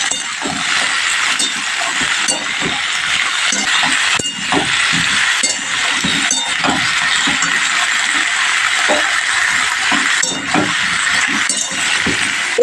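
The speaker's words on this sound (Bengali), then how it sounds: "তেলের মধ্যে আমি একটু ভালো করে নেড়ে নিচ্ছি।" Vegetables stirred in hot oil in a pan for veg biryani, with repeated clinking scrapes of the spatula over a continuous frying hiss, close and fairly loud.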